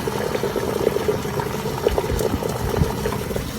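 Water bubbling at a steady boil in a Kelly Kettle camp kettle over a dying fire of coals, a dense, even hiss of rolling bubbles with small pops throughout, close up and without talk.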